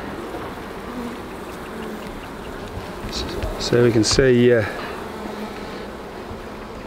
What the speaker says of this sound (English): It's a heap of bees.